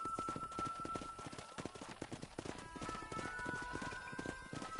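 Horse hooves gallop in a steady, rapid clip-clop in the Western video game Red Dead Redemption, close and continuous beneath a sustained musical tone, with no talk over it.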